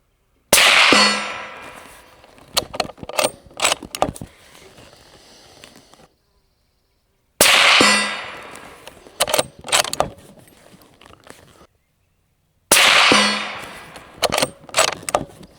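A Howa 1500 rifle chambered in 7.62x39 fires handloads at steel targets. Three sharp shots sound several seconds apart, each followed by a few metallic clangs and rattling rings as the steel is struck.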